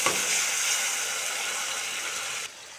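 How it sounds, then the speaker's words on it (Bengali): Ground chili, onion and garlic pastes with turmeric hit a kadai of frying onions, giving a steady close sizzle that cuts back sharply near the end. "আমি এবার মশলাগুলো কড়াইতে দিয়ে দিব।"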